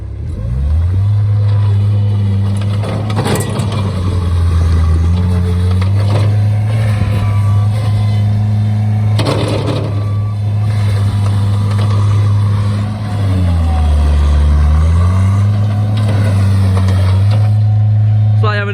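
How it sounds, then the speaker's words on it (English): A small Bobcat skid-steer loader engine running close by, a loud steady drone whose pitch rises and dips as it revs and works, with people talking over it at times. "A little skid steer bobcat."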